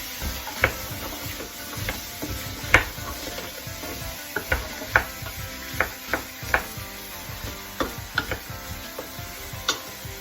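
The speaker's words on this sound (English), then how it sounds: "And I'll just stir that all around." Spring onions and courgette being stirred in a soup pot, a series of irregular light clacks and scrapes from the spoon against the pan over a soft background sizzle, close and without talking.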